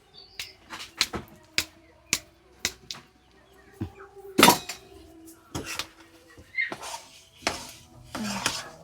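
A ladle stirs a thick, stiffening mixture with Dalda in a pan, giving about a dozen sharp metallic knocks and scrapes at an uneven pace, close and clear with quiet gaps between.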